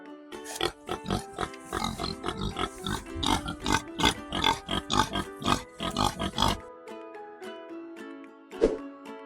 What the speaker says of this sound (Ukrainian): Свиня каже рох,